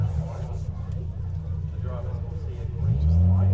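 A restored Ford Escort rally car with a 320 horsepower 2.5 litre Duratec engine and six-speed sequential gearbox at a forest rally sprint, idling with a low rumble under commentary before its engine note rises sharply near the end.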